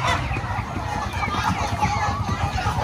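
Pet chickens cluck and chatter near their coop while being released, a steady overlapping flock noise close by, with some voices mixed in beneath.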